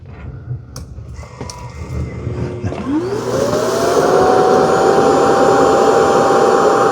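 An Ecovacs X11 Pro robot vacuum dock auto-empties: a mechanical whir spins up and settles into a loud, steady roaring suction with a rising whine, after some quieter clunks and rattles.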